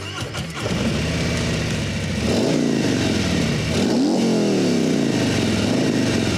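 A Harley-Davidson motorcycle engine cranks and fires up, then settles into a loud, rumbling run with a couple of rising revs, heard close and alone.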